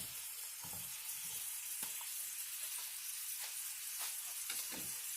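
Shrimp sizzling in a hot pan for mango lime shrimp, a constant bright hiss with occasional sharper crackles and pops, quiet and close with no talking.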